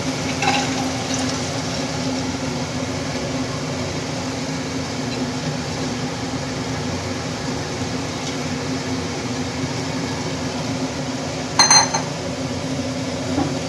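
Soaked dal tadka mix going into a pan to be stir-fried, heard as a steady low sizzle with a faint constant hum and a short clatter near the end, close and continuous.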